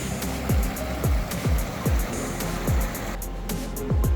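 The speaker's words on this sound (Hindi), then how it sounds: "ये पाइप का पानी है जो वहाँ पे लीक के होने की वजह से जो स्प्रे निकल रहा है।" Water sprays from a leaking pipe beside a man-made channel in a forested stretch of Ladakh, a steady loud rush with regular pulsing surges about every half second and no voices.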